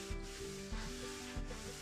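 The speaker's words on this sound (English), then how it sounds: "I'm going to wipe down the bench now with that" Three rhythmic rubbing strokes of a damp towel dragged across a sawdusty wooden workbench top, close and soft, with no voices.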